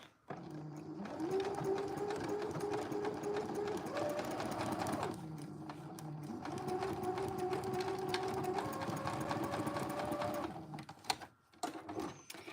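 A sewing machine runs steadily as it re-sews a section of fabric, a continuous close whirring motor hum with a brief pause midway before stitching resumes, ending in a few clicks and handling noises.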